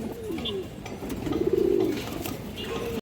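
A female pigeon of an old breed gives a soft, rolling coo in the middle, fairly close, over low background noise and faint rustling.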